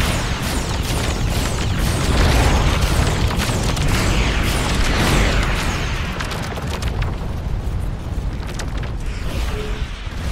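Missile explosions in the space game Starcom: Unknown Space boom in a dense barrage, rumbling blasts and bursts overlapping continuously, loud and close with no speech.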